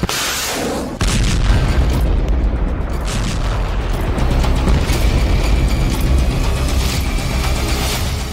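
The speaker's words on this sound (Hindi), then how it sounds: "धमाके ऐसे कि रूह कांप जाए।" A loud, sustained booming roar bursts in after a second and rumbles on heavily, like a powerful explosion heard nearby during an attack on Moscow.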